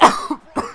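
A single sharp cough bursts out, followed by a short throaty catch and a second smaller cough, close and fairly loud.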